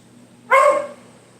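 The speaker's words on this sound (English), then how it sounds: "You need to stop barking." A single loud bark from a pet dog at home, close by and sharp with a tonal yelp quality, standing alone against a quiet room.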